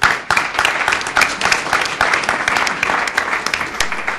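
Enthusiastic applause from an audience fills the whole stretch, loud and continuous, with many hands clapping at once.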